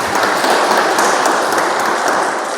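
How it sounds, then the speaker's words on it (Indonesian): Steady, dense applause from a church congregation, even and full throughout the moment with no breaks. "Tepuk tangan yang meriah bagi Tuhan"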